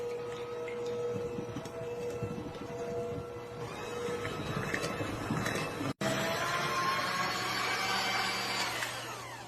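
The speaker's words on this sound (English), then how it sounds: "I'm going to mix this for about 3 or 4 minutes." An electric mixer beats lemon cake batter in a steady, loud whirring drone that runs nearly the whole time, broken once by a brief cutout before the motor resumes.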